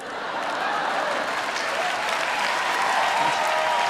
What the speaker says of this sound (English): maybe the crowd was having that very enthusiastic yell of support and applause